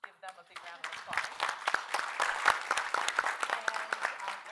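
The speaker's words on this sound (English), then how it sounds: "So I want to give them a big round of applause." Applause from the audience at a 2019 conference celebrating an organisation's 20th anniversary, a dense run of many hands clapping in a large room that builds and holds steady throughout.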